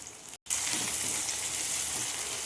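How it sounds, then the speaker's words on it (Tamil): Small onions (shallots) fry in a pan for a village-style fish curry, giving a steady, close sizzle with bright crackle that drops out briefly near the start and then holds evenly to the end. "ஸோ அதனால் நான் சின்ன வெங்காயம் சமைக்கிறேன்"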